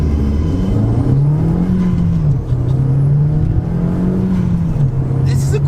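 A high-mileage Audi TT 3.2 V6 accelerates hard from 20 to 70, its engine note rising in pitch through the gears with short dips at the shifts, heard loudly from inside the car.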